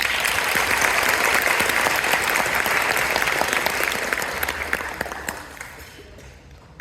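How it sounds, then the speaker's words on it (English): Dense applause from the audience at the Joliet Central High School spring concert, a broad wash of many hands clapping steadily before slowly tapering off near the end. "let's give her a round of applause."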